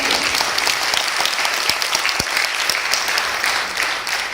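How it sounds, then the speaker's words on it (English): An audience at an entrepreneurship talk gives a full round of applause, with loud, continuous clapping from many hands that holds steady from start to finish. "Can you have a proper round of applause?"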